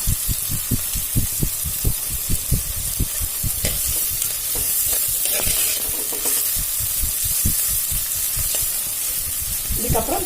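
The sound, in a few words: onions sautéing in a pan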